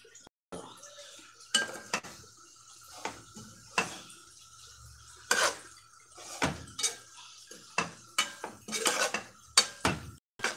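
A metal pot and its lid clatter and clink repeatedly at close range while cooked okra is moved, with sharp irregular knocks of cookware and utensils and no talk.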